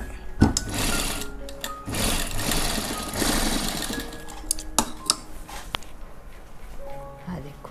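A sewing machine sews double stitching on a jacket (koti) for a frock or kurti, giving a busy mechanical whirr in two long runs, then stops with scattered knocks and clicks while a voice talks.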